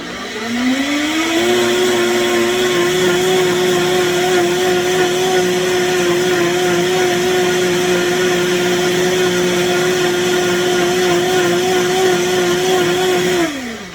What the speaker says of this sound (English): because this is a Vitamix, I think it's doing the job even in a faster time